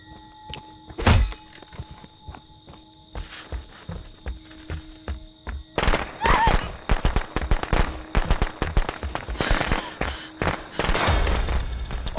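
Firecrackers going off in the Friday the 13th video game: a sharp early bang, then dense runs of rapid popping and crackling bursts that stay loud and continuous through the second half.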